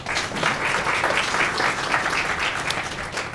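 Audience applause at a panel event on women in planning; steady, dense clapping from a room full of people, sustained evenly at moderate loudness throughout.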